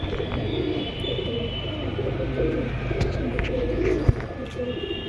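Pigeons coo softly in a loft, low repeated throaty calls over a busy room murmur, with faint chirps and a sharp knock near the end.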